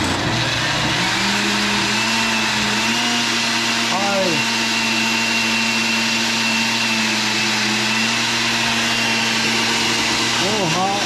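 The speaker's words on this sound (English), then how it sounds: "Oh, we're gonna blend it." Blender whirring steadily as it blends a mixed berry smoothie with sugar, a sustained loud motor drone with brief pitch shifts, under occasional talk.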